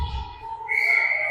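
A referee's whistle sounds at an indoor ringette game, one sustained shrill tone that rises in pitch partway through and rings clearly over the faint arena hum.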